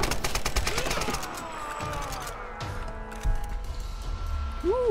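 Shotgun blasts in Tomb Raider (2013): a quick cluster of crisp, close reports at the start, then sparser thuds against whooshing game ambience, with a couple of louder hits later.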